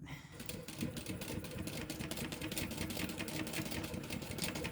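Steady rapid whir and needle clatter of a sewing machine running continuously as it stitches a row around a fabric sling, close and even, with no talk over it.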